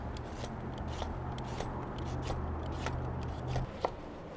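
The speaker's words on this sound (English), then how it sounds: "we're gonna start by peeling and dicing our sweet potatoes" Sweet potatoes being peeled and diced on a cutting board, with soft scraping strokes and light knife taps repeating unevenly at close range, no talk over them.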